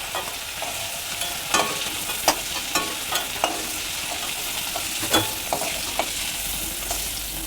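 Prawns for chingri malai curry fry lightly in a pan with a steady close sizzle, punctuated by intermittent sharp clinks and scrapes of stirring, and no voices.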